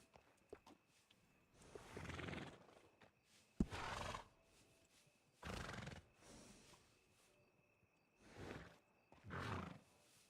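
A horse in the video game Red Dead Redemption 2 gives several loud whinnies and snorts in separate bursts with short quiet gaps between them, heard alone without talk.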